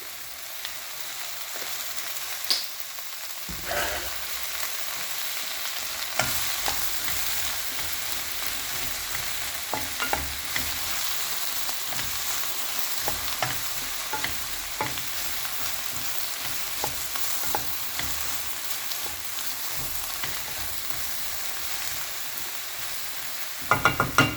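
Okra sautéing in oil with turmeric in a pan, a continuous close sizzle and fry broken by frequent scraping stir strokes, steady and fairly loud with no speech.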